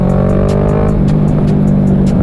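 A Kawasaki Ninja 650 sport motorcycle pulls hard under acceleration, its engine note loud and close with a steady rising drone and rhythmic pulsing from the exhaust.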